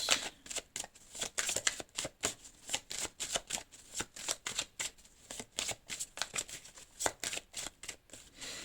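Cards being shuffled and drawn for a tarot-style reading, a close run of crisp riffling bursts repeating in quick irregular rhythm, with no speech over them.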